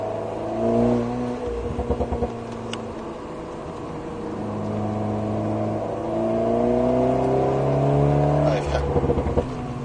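An Alpine A110 S sports car accelerates on the Circuit d'Alès, its engine note rising and falling through gear changes, loud and steady from inside the cabin for about ten seconds.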